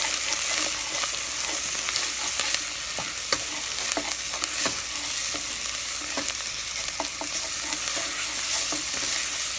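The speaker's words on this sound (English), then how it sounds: "At this point I'm stirring a little more often because I don't want the garlic to stick." Garlic paste sautés in a pressure cooker on medium heat, a steady close sizzle broken by frequent scraping stirs of the spoon.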